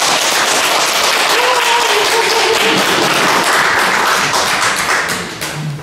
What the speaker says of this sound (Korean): 우리 강주원 교수님을 힘찬 박수로 맞아주시기 바랍니다.